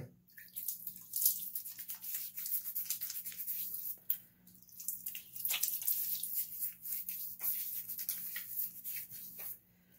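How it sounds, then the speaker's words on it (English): Water splashes onto a face at a sink before a shave, a run of soft, irregular wet splashes and drips, quiet and close, with short pauses between handfuls and no talk. "let me go ahead and get this blue water on my face"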